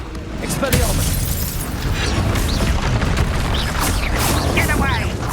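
Spell blasts in a Hogwarts Legacy battle, a loud rumbling boom with crackling bursts layered over dense combat noise, with voices shouting throughout.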